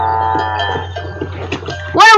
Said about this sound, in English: Killing a cow, hunting it down, and skinning it.